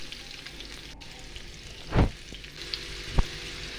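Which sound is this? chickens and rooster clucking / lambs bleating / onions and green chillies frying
onions and green chillies frying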